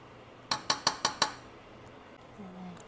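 Spoon clinking against a pot while stirring instant beef flavor paste, mushroom seasoning and salt into beef broth: five quick, bright taps close by, then quiet room tone with a faint low hum.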